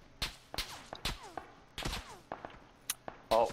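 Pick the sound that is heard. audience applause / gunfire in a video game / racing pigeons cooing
gunfire in a video game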